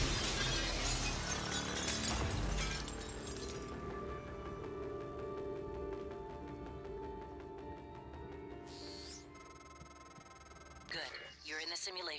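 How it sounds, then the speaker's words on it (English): Glass shatters in the sci-fi video game Prey, a loud crash in the first seconds ringing out over a steady game soundtrack, with electronic interface tones and effects following. "You break the glass hoping to make an escape through the balcony."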